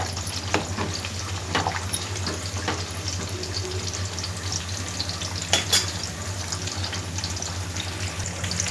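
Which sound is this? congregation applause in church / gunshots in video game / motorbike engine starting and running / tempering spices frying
tempering spices frying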